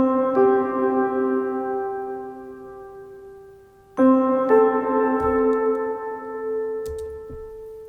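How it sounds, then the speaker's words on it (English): Two sustained struck chords on a glockenspiel ring out with long decaying tails, bright bell-like tones bathed in heavy reverb, the second entering around midway. "under orchestral tune percussion, a glockenspiel"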